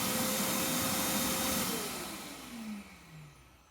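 Homemade vacuum suction jig for recreating historic architectural woodwork, a loud steady motor whine and airy rush that then winds down, its pitch sliding lower as it spins down.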